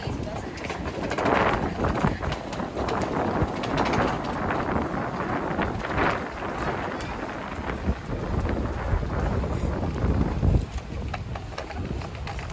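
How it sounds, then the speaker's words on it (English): Gusty wind rumbles against the microphone outdoors throughout, rising and falling, with people talking faintly at times. "It's kind of windy and it's chilly"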